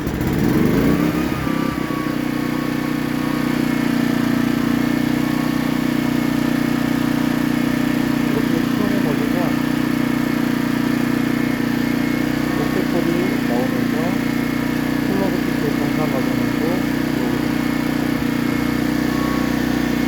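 A Shinray Commando SR2200ise portable generator's engine starts from its smart key with a short burst, then runs at a steady buzzing drone, close and constant throughout, while someone speaks over it.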